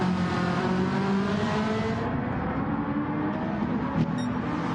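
Touring race cars lapping the Brands Hatch circuit, a continuous engine drone with rising and falling revs as cars pass at moderate distance, no voices.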